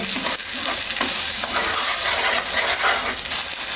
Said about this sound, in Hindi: अब इन मसालों को हम अच्छे से मिला लेते हैं और अच्छे से हम भून लेंगे।